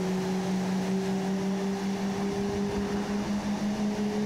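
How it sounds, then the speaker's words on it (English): An F-111E jet engine spools up in Microsoft Flight Simulator, giving a steady droning roar with a sustained tonal whine that holds throughout without any voices. "Now the engine sounds, I'm told, are the default F-18 ones"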